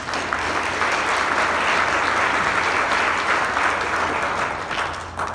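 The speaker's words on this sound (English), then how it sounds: "Can we please have a round of applause for the candidates?" Steady, dense applause from a debate audience for the candidates of California's 1st Assembly District, loud and sustained throughout before easing slightly at the end.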